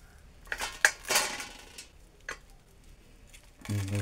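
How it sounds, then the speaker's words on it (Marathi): Knife chopping red amaranth leaves on a board in a home kitchen, a handful of sharp, close cuts scattered across a quiet background, with a brief clatter near the end. "लाल माठ चिरत आहे."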